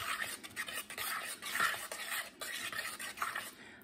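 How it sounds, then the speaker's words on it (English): Potatoes being stirred into clam chowder in a pot over medium heat, with a steady wet scraping and swishing of a utensil against the pot, close and continuous for a few seconds with no talking. "Just kind of stir them in there."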